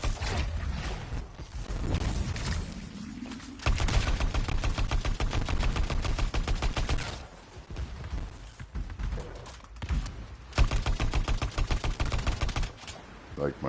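Rapid automatic gunfire from the player's weapon in the video game Anthem, loud and sustained in long dense bursts with brief pauses, speech heard faintly at times underneath.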